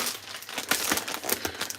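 Clean paper napkin being crumpled by hand, a close, continuous crinkling rustle with irregular crackling bursts, no talk over it.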